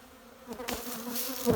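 A dense, steady buzzing of many honeybees close by around a hive frame, swelling slightly louder toward the end, with no voices.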